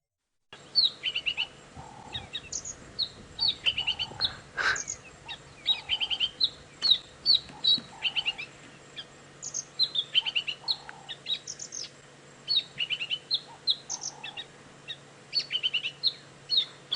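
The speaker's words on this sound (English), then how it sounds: "if you hear a bird chirping away like this, chances are it is a white-browed scrub robin." A white-browed scrub robin calls repeatedly in the wild, with bright chirping phrases in quick bursts separated by short pauses, fairly close over a quiet background hum.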